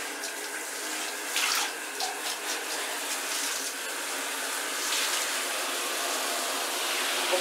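Warm tap water runs steadily into a sink during post-renovation cleaning, a continuous close hiss and splash with small gushing swells and no voices.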